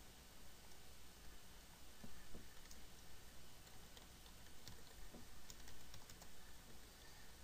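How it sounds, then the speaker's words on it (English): Keys tapped on a computer keyboard while a password is typed during online textbook setup, a faint, steady patter of small clicks under a hiss of background noise. "Make sure you type in your password"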